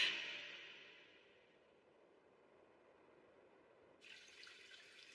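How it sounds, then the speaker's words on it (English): Water in an anime scene: a soft, steady trickle and running flow heard faintly and alone, with a brighter burst of splashing or pouring that comes in toward the end. "I can hear it. The sound of water."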